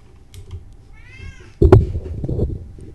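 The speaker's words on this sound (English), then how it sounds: "And that is the sound of my kitty cat." A pet cat meows once with a rising, drawn-out tone, close and clear over a quiet room, followed by louder nearby rustling and handling noises.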